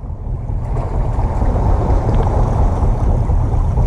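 Fishing boat engine approaching a dock, a loud continuous low rumble mixed with wind buffeting the microphone, steady throughout with no talking.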